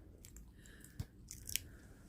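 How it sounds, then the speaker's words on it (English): A pet cat named Lily licks her fur and chews on burrs pulled from it, producing faint, close, wet crunchy bites, with a sharper crunch near the middle and a small cluster of crisp bites shortly after. "If you can hear licking, that's Lily getting burrs out of her fur and then chewing on them."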